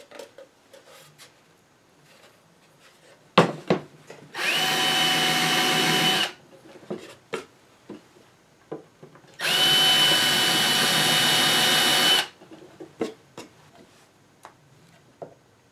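A power drill drives screws into a wooden concert receiver case during assembly. Two sustained whirring bursts of a few seconds each stand out, loud and close, with scattered clicks and handling knocks before, between and after them.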